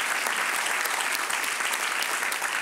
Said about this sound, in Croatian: Je li to meni aplauz ili njoj?